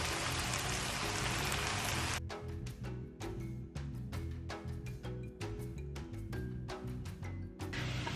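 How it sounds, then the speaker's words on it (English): Plantain slices deep frying fully immersed in hot oil, a loud dense sizzle that breaks into a steady crackle and spatter of popping bubbles, with no voices. "You want the plantain to be immersed into the oil, so you want to deep fry it."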